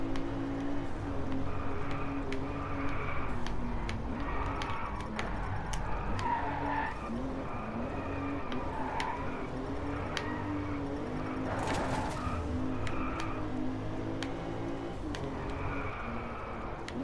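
Racing car engines drone and tires squeal in repeated skids during a race in the video game Driveclub, a steady mid-level mix of revving motors and screeching rubber.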